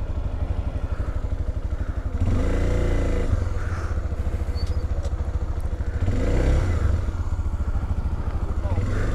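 Motorcycle with sand in it riding away from a beach in Barra Velha, Santa Catarina, its engine thumping steadily and close, with two rises in revving, while a rider talks over it.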